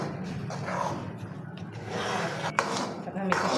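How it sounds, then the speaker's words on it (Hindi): Suji halwa cooking in ghee is stirred in a pan, with soft scraping and rubbing strokes and a few sharper clinks of the spoon against the metal, fairly quiet and close. "हलवा इस टाइम आपके सामने पकाया जा रहा है"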